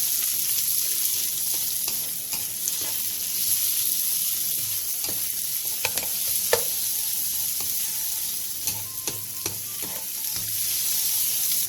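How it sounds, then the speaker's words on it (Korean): Cucumber with minced garlic and salt stir-frying in hot oil in a pan over high heat, a continuous loud sizzle with occasional clinks and scrapes of stirring. "팬에 기름을 두른 뒤 오이와 다진 마늘 반 스푼, 소금 3분의 1티스푼을 넣고 센 불에서 2분 정도 볶아주세요"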